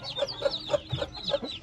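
A hen clucks near a Shamo breeding pair, repeated short bright clucks spaced in a steady rhythm at close range, with no voices.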